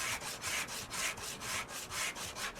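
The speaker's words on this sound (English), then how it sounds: "Let's get to sanding." Sandpaper rubbing over a car part in a car dealer simulator game, a steady back-and-forth scraping repeated about ten times in an even rhythm, close and fairly loud with no talk.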